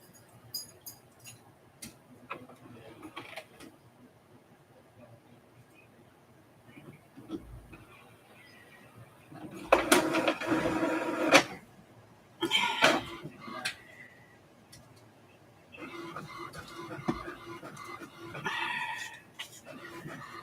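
A small home printer produces a page in a quiet craft room, with faint whirs and clicks followed by louder bursts of mechanical feeding and rattling that come in short spells with pauses between.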